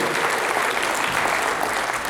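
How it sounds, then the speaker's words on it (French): Steady, dense audience applause fills a church gathering honouring pastors at a Radio 4VEH 69th anniversary event, loud and continuous throughout with no voices on top. "nous baillons un gros applaudissement à chaque pasteur et toute la commission"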